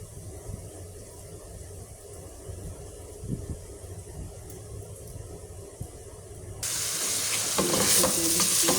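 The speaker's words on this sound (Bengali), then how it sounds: "দিয়ে দিচ্ছি টমেটো সব মশলা, এখানে কষায় নেব টমেটোটা।" Tomatoes and spices tipped into a pan of fried onion and garlic, with low scraping and clinking of the spoon and a quiet background that turns into loud steady sizzling frying partway through.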